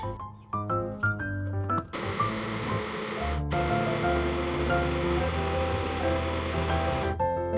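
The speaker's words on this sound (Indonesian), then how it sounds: "Kita blender, kita halusin lagi pakai air." A kitchen blender purees homemade chili sauce with water. After a few short clatters, the motor roars loud and steady, cuts out briefly, then whirs on for several more seconds before stopping.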